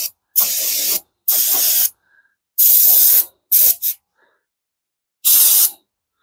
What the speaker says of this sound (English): I got me a brand new can brake clean, and we're just going to give her a little douse.